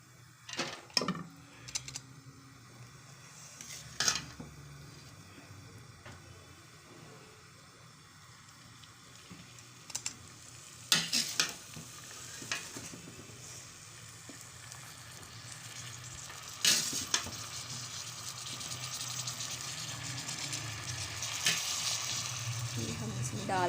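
Boiled rice tipped a little at a time into frying masala for zeera rice, giving a steady sizzle that builds in strength with scattered clinks and knocks from the pan, heard without talk.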